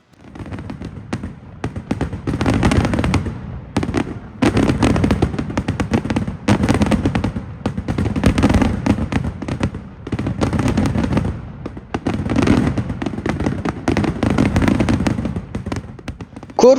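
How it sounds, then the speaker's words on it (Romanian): Midnight fireworks display after the Easter service on Corfu, Greece, with dense, continuous volleys of loud crackling bursts and booms that rise and fall in waves for the whole stretch. "după slujba de înviere, la miezul nopții se organizează un impresionant foc de artificii"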